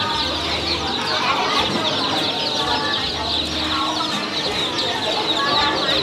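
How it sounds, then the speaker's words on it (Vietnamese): Ducks for sale at a riverside rural market beside a bridge in Ben Tre, quacking and clucking steadily up close amid the busy market bustle, with people talking throughout. "Đây, chú bán vịt."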